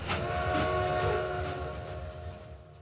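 Train sound effect of a train striking a fare evader in an anti-piracy screen: a loud rushing rumble with a sustained horn-like whistle tone that fades away over a few seconds, with no voices.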